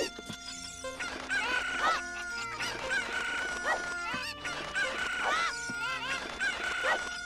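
Chickens in the video game Zelda Ocarina of Time cluck and crow in repeated bursts over calm background music, each call bright and clear, with no talking.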